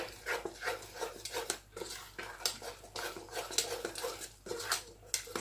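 Whisk clattering rhythmically against a bowl as milk is mixed into semi-liquid harcha batter, quick repeated scraping and tapping strokes that stay close and busy.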